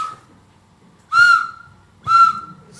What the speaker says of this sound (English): When you wake up in the morning, blow your whistle.